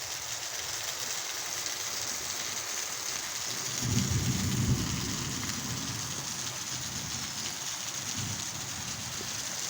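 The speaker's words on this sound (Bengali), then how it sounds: "কি বৃষ্টি হচ্ছে দেখো" Heavy rain falls on a hot day as a dense, steady hiss, with a brief low rumble like thunder partway through. No voices are heard.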